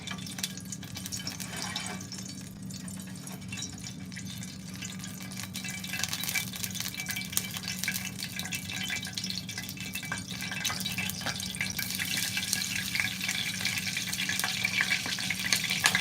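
Potato patties fry in a pan of hot oil, giving a steady, moderately loud sizzle and crackle that builds a little toward the end, with no voices over it.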